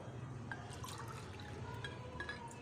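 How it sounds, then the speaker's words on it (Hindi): Water is poured into a cooking pot sitting on an unlit stove, quiet close splashing and dribbling with small drips over a few seconds, no talking. "इसमें 2 to 3 कप हम जो है वो पानी डालेंगे।"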